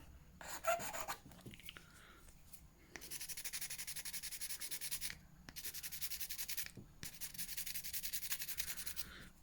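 Nail file rubbed over lumpy artificial fingernails in close, quiet strokes: a short first burst, then three longer stretches of fast rasping back-and-forth separated by brief pauses.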